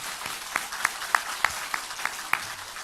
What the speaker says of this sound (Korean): 한 번 더 박수해 주세요